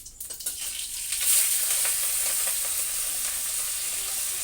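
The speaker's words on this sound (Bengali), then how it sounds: "চিংড়ি মাছগুলো আমি জল চিপে চিপে দিয়ে দিলাম তেলের মধ্যে।" Shrimp, squeezed of water, drop into hot oil in a wok and burst into a loud, close, continuous sizzle that swells after a few light clatters and holds steady.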